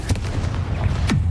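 A Confringo fire spell blast in Hogwarts Legacy: a sharp burst at the start, a rumbling low roar, then a second crack near the end, loud and close.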